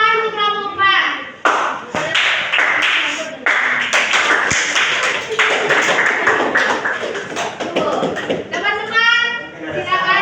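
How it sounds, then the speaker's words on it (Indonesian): A school class applauding the scouts during a teaching session, brisk clapping from many hands close by, mixed with children's voices and an adult speaking at the start and end. "Oke, tepuk tangan untuk Pramuka."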